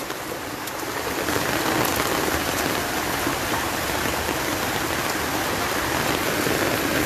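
Heavy rain pours steadily throughout at a landslide site in Nam Trà My, Quảng Nam, a loud, dense, continuous hiss of water on surfaces with no talk over it.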